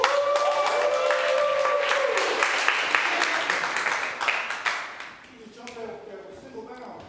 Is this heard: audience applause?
yes